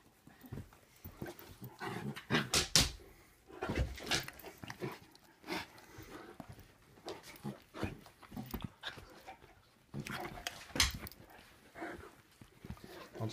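An English Mastiff and a Bernese Mountain Dog/German Shepherd mix puppy play together, with close, irregular bursts of growls, grunts and scuffling, briefly separated by quieter pauses.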